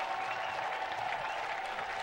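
A spring training baseball crowd applauds former Blue Jay Matt Stairs, a steady wash of distant clapping under a constant background hum.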